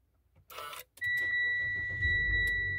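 A Mitsubishi Xpander started with the push start button: a brief whirring crank, a short gap, then the engine catches and settles into a steady idle while a high electronic tone chimes over it.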